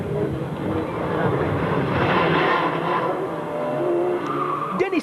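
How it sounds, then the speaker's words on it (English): A Peugeot rallycross supercar races at the Croft Circuit final round in 1997, its engine roaring loud and sustained with tyre skid noise. The sound fades slightly near the end. "The supercar final saw Will Gollop in the Peugeot pull out an enormous lead by the first corner"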